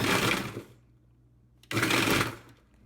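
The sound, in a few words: blender pulsing thawed frozen bananas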